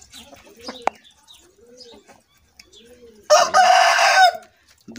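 A Shamo hen and rooster: soft clucks and low calls from the birds nearby, then a loud, close rooster crow lasting about a second, with a voice faintly in the background.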